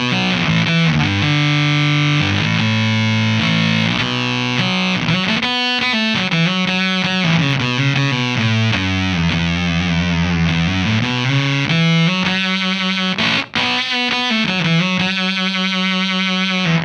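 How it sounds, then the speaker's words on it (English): Heavily fuzzed electric guitar through an NRG Effects Mauler fuzz pedal playing chords and riffs, thick and saturated with a buzzing, sustained tone, loud and continuous throughout. "just the standard fuzz by itself is killer"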